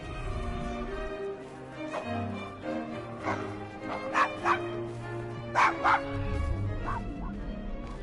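Dog barking in the video game Assassin's Creed Syndicate, several sharp barks and yips in short bursts over a steady background.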